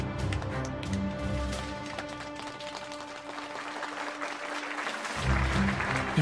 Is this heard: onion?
no